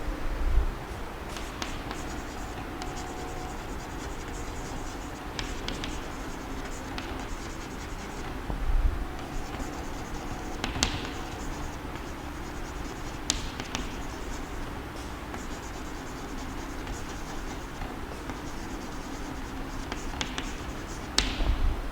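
A pen or chalk writes math definitions for a Class VI lesson on factors and multiples, giving soft continuous scratching strokes with occasional taps over a low room hum and no talk.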